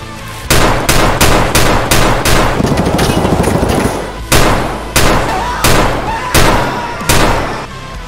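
Chiappa Rhino 200DS revolver firing in Escape from Tarkov: loud, close gunshots, first a rapid string of about a dozen shots, then slower single shots spaced roughly half a second to a second apart.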